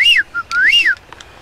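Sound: male blue-footed booby whistling call

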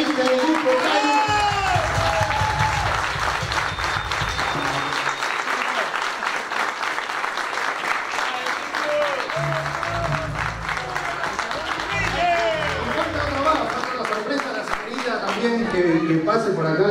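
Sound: live audience applause

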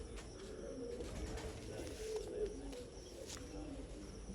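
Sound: pigeon cooing

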